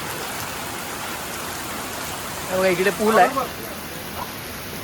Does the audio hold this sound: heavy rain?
yes